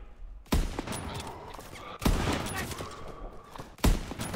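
Bursts of rifle and machine-gun fire in Call of Duty WW2 during a Battle of the Bulge mission, three sharp loud volleys spaced about a second and a half apart with rattling echoes between.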